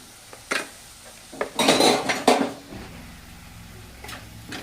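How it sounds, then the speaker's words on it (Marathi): A spoon stirs and scrapes a thick chutney in a pan, giving a few clinks and a short burst of metallic scraping, close by against a quiet background, with no talking. "असं मस्त हलवून घ्यायचं आपल्याला याला असं छान मिक्स केलं आहे आपण"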